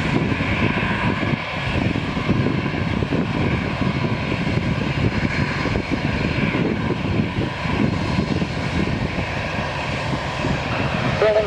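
Airplanes take off and land at a busy airfield, with a sustained, loud propeller-engine drone rising and holding steady across the whole stretch, dense and rumbling with no pauses.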